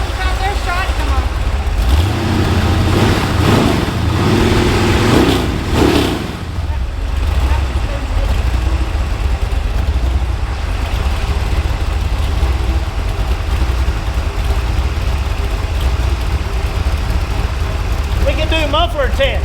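A small block Chevy engine runs loud and steady close by, its rough idle swelling into revs with a throaty rumble, while people talk over it.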